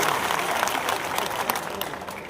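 A crowd at a political gathering claps loudly and steadily to welcome a local MLA, dense applause filling the hall.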